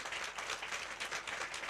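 A church congregation applauding, heard as faint, dense clapping that continues evenly through the whole moment with no voices over it.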